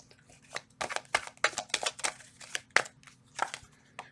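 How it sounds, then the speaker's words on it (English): Tarot cards being shuffled by hand in irregular quick bursts of papery riffles and slaps, close and moderately loud with no speech. "One more shuffle."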